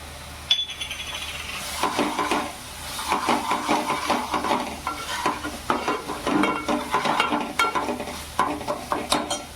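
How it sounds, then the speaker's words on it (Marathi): Spiced okra stirred in a pan with garam masala, a spoon scraping and clinking against metal in a steady rhythm over a soft, continuous sizzle, close and moderately loud. "व्यवस्थित आपण मिक्स करून घ्यायचं आहे मसाले आणि हे गरम मसाला"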